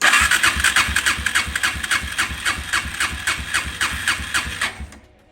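Suzuki LTZ 400 quad engine cranking over on the starter during a compression test, a steady rapid chugging rhythm of compression strokes lasting about five seconds before stopping abruptly, loud and close.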